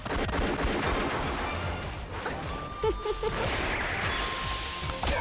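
Dense gunfire and crashing impacts from an action scene in the anime Symphogear GX episode 1, a loud continuous barrage with faint tones mixed in.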